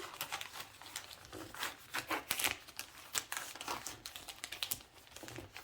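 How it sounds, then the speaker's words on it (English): Wrapping paper is folded down around a gift box, giving rapid crinkling, rustling and crisp tapping of paper against cardboard, close and continuous with no voices. "So first you want to fold down."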